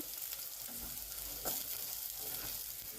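Onion is lightly sautéed in a pan for a capsicum dish, not browned. It gives a faint, even sizzle with soft stirring scrapes and one brief clack midway, all quiet and without voices.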